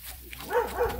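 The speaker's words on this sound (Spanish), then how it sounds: "¡Perro!" A dog barks a few times in a rural hillside setting near cows, short yips rising over quiet background, fairly close and moderately loud.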